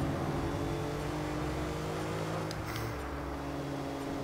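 A car in the Watch Dogs video game speeds off under hard acceleration, its steady engine roar filling the scene continuously from start to finish without talk.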